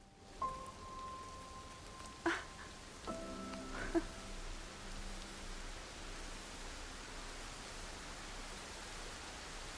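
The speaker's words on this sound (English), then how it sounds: "Wow, it's raining." Steady rainfall in the climbing game Jusant, a soft, even hiss of falling rain that fills the whole scene, with a few faint in-game chimes and tones early on before the rain continues alone.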